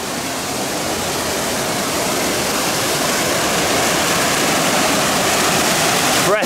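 Rushing water pours steadily and loudly, a dense continuous roar like a fast, clear mountain stream close by on Ben Nevis.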